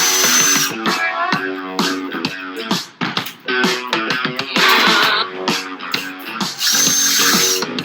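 A power drill whines in loud, steady bursts with short pauses between them during a washing machine door boot seal repair, running close to the microphone.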